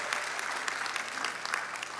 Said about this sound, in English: give yourself a round of applause because we made it